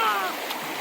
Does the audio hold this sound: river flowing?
yes